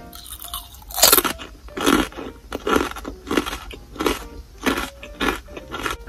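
Crunchy bites and chewing of a sour Muji snack come up close and loud in a regular rhythm of about one crunch per second, with no talking.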